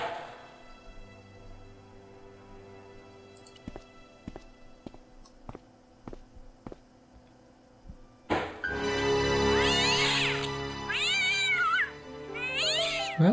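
A cat in the video game Broken Sword: Shadow of the Templars, heard first as a run of sharp clicks, then as several loud, drawn-out meows close by over a soft background hum.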